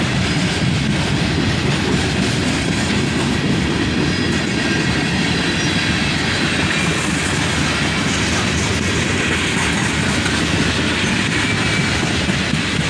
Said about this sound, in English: Some 6-axle flat cars start off this manifest train, led by an SD70Mac and then an ES40DC.